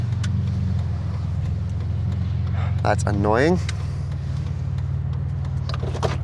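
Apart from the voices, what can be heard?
overheating car engine idling after pulling over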